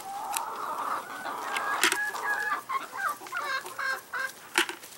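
Several chickens cluck and squawk close by in a busy, uneven chatter, with sharp louder calls breaking through now and then.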